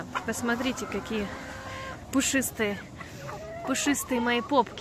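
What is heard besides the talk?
silkie chickens clucking in a cage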